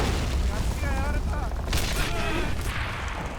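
A mortar explosion rumbles in the World War II strategy game Men of War: Assault Squad, a heavy low boom with rolling battle noise, as someone talks over it.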